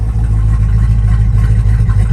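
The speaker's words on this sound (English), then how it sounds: "So it makes the exhaust real loud, which I really like." A 1958 Plymouth Fury with a fuel-injected 451 big-block V8 and open exhaust rumbles loud and close, a deep throbbing idle pulsing through short revs with no talking over it.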